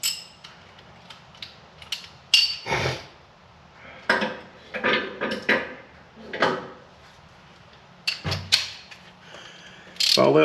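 Wrench working on a seized CV axle of a Nissan Rogue: scattered ratcheting clicks, creaks and metallic clanks in irregular bursts, close and moderately loud, with short quiet gaps between.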